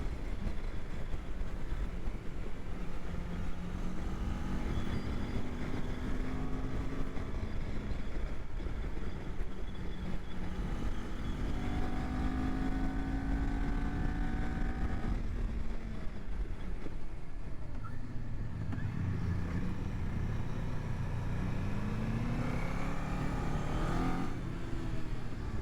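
A Kawasaki Ninja 400 2023 twin-cylinder motorcycle pulls hard in fourth gear, its engine note climbing in repeated rising sweeps toward high revs, loud and steady throughout with no voices.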